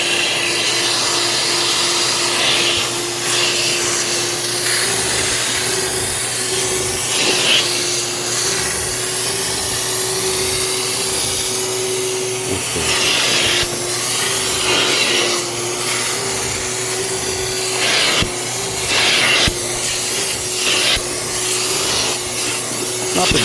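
A Kirby vacuum fitted with upholstery attachments works over car seats, a steady loud motor drone with a constant tone, broken by rubbing and scrubbing strokes across the fabric throughout.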